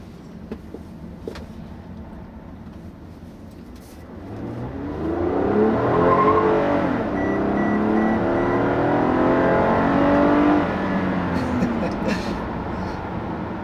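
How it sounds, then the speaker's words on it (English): A 2016 Toyota Camry XLE V6 engine revs up and accelerates, its drone rising steadily in pitch and loudness before leveling off, heard from inside the car. "when I first put my foot down with this Camry"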